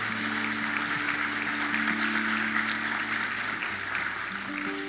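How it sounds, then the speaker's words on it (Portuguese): Steady applause from a church congregation fills the space, a dense, continuous clatter of many hands with sustained organ or keyboard tones held underneath throughout. "Você pode aplaudir Jesus?"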